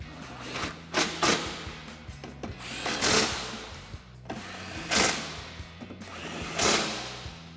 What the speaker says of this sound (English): we can tighten that down with a 13mm socket